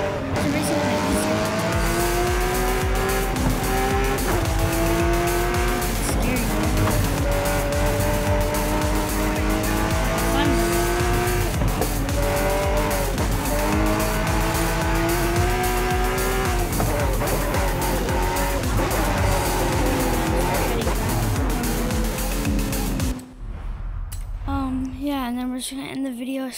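Race cars in Forza Horizon 5 roar with revving, shifting engines and squealing tires in a loud, continuous run. The sound cuts off abruptly near the end.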